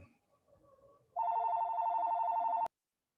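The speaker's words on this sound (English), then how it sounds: "Is that you or is that my phone?" A phone rings with a steady electronic tone that starts abruptly partway through and cuts off sharply, loud and close in a quiet room after faint background noise.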